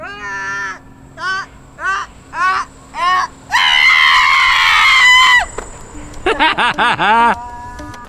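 A boy yells loudly at his scooter in repeated short bursts, followed by a longer sustained scream and then a quick run of rapid shouts, close and piercing with no other voices.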